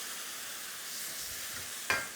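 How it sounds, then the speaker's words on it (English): Chicken stock sizzles steadily in a smoking hot wok, a continuous hiss with a short sharp clatter near the end and no talking. "Smoking hot wok, your stock goes round the edge of the wok"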